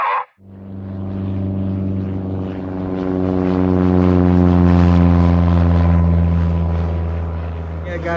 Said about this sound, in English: Got planes up here.